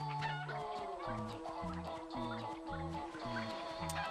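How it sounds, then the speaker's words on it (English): Chickens in the Crash Twinsanity video game cluck in a steady, repeating pattern of short, evenly paced calls over a quiet game soundtrack, alone with no talking. "Eventually I'll get these chickens to go in here."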